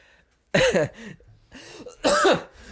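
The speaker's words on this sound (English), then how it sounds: "He just coughed." A man coughs twice, two loud harsh bursts separated by a quieter pause with a bit of throat noise between them.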